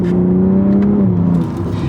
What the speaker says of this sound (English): listen to that 8-speed ZF downshift